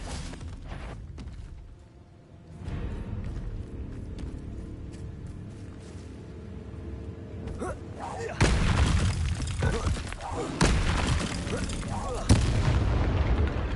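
Confringo blasting spells explode during Hogwarts Legacy combat, with loud repeated booms and crackling impacts over continuous game effects, while a voice calls out during the fight.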